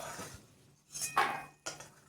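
Fried peanuts lifted out of a pan of rice bran oil with a metal utensil: a few separate clinks and scrapes of metal on the pan, fairly quiet, with short pauses between.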